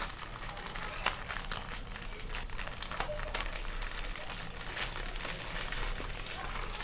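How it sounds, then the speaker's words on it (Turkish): Plastic wrapper of a cocoa biscuit pack crinkles and crackles steadily at close range as it is pulled open, with sharp crisp snaps scattered through the rustling. "Kakaolu bisküvitimizi açıyoruz."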